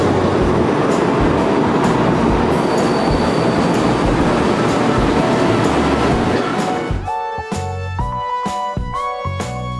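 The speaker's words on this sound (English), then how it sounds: "We're gonna take a train to go to Kaohsiung." Rumbling onboard noise of a train ride in Taiwan, loud and steady with rolling wheel roar, then braking squeals and clanks as the train slows near the end.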